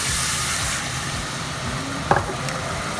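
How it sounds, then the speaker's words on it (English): Boiling water hitting a hot pan with tomato puree for a red lentil chilli, giving a steady close sizzle and hiss throughout, with a brief clatter of stirring near the end. "That'll really sizzle up, give it all a stir through so that the tomato puree can be mixed in"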